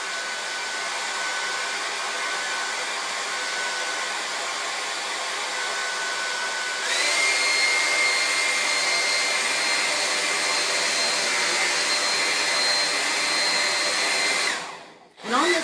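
Hair dryer blowing on a freshly painted chalkboard, a loud steady whooshing drone that shifts pitch slightly midway and cuts off abruptly near the end, with no talking.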